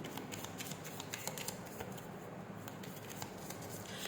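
Oracle cards are shuffled during a tarot reading, giving a steady soft riffling and flicking of card stock up close, continuous and brisk throughout with no talking.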